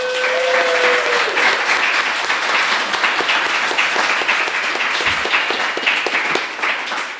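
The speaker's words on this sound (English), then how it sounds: "give Angela a big round of applause." A big round of audience applause for a speaker at a careers talk, dense close clapping with distinct individual claps that carries steadily before tapering off, and a brief tone at the start.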